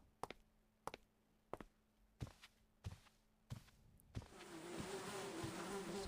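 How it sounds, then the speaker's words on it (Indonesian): A soft, steady fly buzz in a horror video game rises near the end after a series of evenly spaced taps or footsteps, all quiet, with no talking. "Dengan suara lalat."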